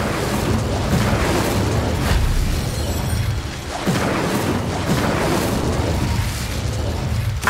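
Incendio fire spell cast in Hogwarts Legacy, dense roaring bursts and booming whooshes of magical flame repeating over several seconds, loud and close, overlaid with game effects.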